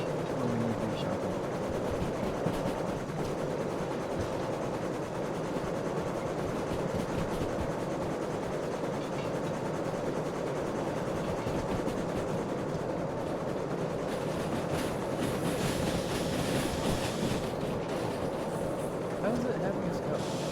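A DM3 locomotive running on rails during shunting work, a continuous low rumble and rolling rail noise with faint clatter, steady throughout at a moderate distance.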